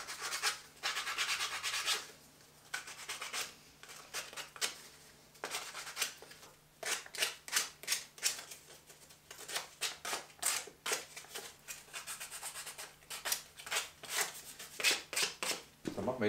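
Wooden castle parts are deburred by hand, giving repeated scraping and rubbing strokes in quick bursts, close and fairly quiet, with short pauses between passes.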